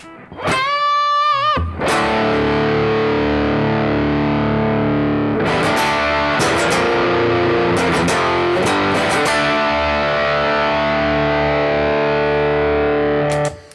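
A loud, heavily distorted electric guitar rings out with sustained crunchy chords and a few sharp strums, preceded by a short bent note.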